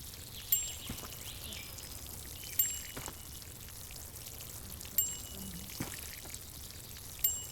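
Water pours steadily from a tap in the Plant Nursery Simulator video game, a continuous close splashing stream with periodic soft clicks and no talk over it.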